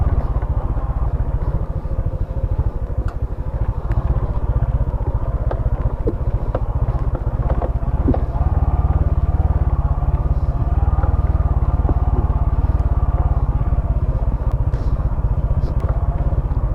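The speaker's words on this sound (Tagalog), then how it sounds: "Motor ni JR kaya kahadid to" A motorcycle engine runs steadily and loudly on a mountaintop, a deep continuous rumble with occasional clatter and faint voices underneath.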